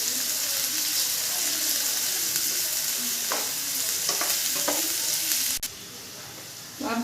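Finely chopped onion sizzles steadily in a pan with garlic while a utensil stirs it, a continuous close frying hiss broken by a few scraping strokes and a sharp tap near the end.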